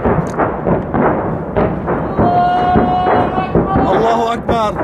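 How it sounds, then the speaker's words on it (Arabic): Rocket shelling on Arbeen, near Damascus, with deep booming impacts amid loud shouting voices, the explosions rumbling under and between the cries. "قصف على مدينة عربين بهجمات الصواريخ"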